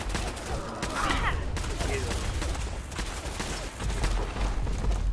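Gunfire in the video game Fallout 4, a continuous rattle of rapid shots running through the whole stretch at steady loudness, with voices talking underneath.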